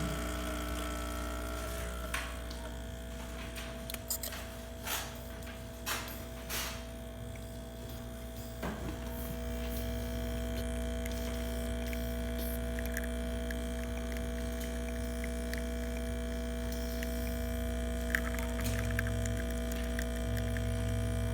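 A DeLonghi espresso machine with a newly fitted pump runs after descaling and cleaning. It gives a steady, close electrical hum with a few faint clicks and taps early on, and no voices.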